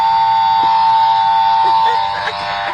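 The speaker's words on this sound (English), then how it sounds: "but it's a buzzer. And I got it from Dollar Tree." A cheap novelty buzzer from a dollar store sounds with one long, loud, steady electronic drone, and a voice briefly murmurs underneath near the end.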